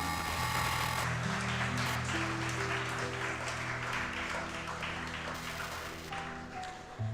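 Students and teachers at a school investiture ceremony applaud in a hall, a steady wash of clapping with sustained tonal hum underneath, gradually easing off near the end.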